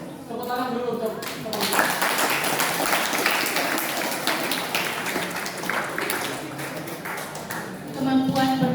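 Applause from a hall of roughly 200 new madrasah students at an orientation event, building from scattered claps into a sustained crowd clap, with voices and a few bright tones at the start and end.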